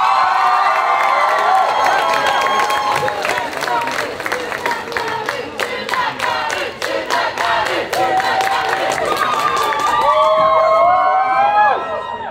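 A convention dance-competition audience cheers, shouts and claps rapidly for a dance group arriving on stage, a dense and loud crowd roar that swells toward the end.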